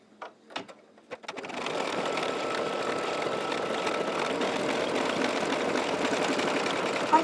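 Embroidery machine running a bean stitch on chenille shamrock pillow fabric: a few sharp clicks as it starts, then a steady, continuous mechanical whir that carries on evenly throughout, with no talking.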